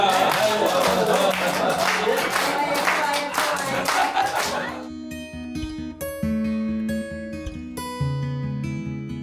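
A small group of people claps for a man named Yuntaek indoors during a casual get-together on an island, a burst of close, uneven claps for about five seconds that cuts off into tonal electronic music.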